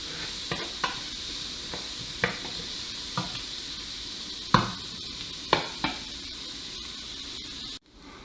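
Onions fry in bacon grease in a pan with a steady soft sizzle, punctuated by scattered scraping stirs of a utensil, fairly quiet and close, with no talking.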